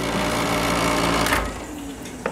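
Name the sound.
loud air conditioner running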